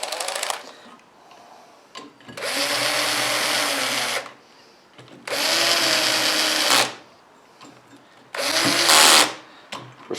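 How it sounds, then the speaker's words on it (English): Three bursts of a cordless drill whirring with its clutch turned way down, tightening cylinder head bolts on a mini bike engine, each lasting a couple of seconds with short pauses between, close and loud with a slight pitch change. "Now, I'm going to use my cordless drill, but I'm going to turn the clutch way down."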